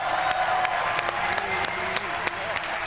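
Scattered clapping with distinct sharp claps spaced irregularly over a noisy background, moderately loud.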